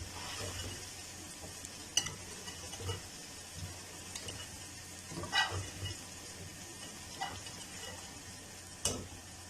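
Garlic and potatoes sizzle and crackle in a hot pan, with occasional scraping and stirring clinks, steady and fairly quiet.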